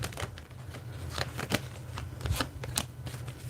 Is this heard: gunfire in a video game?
no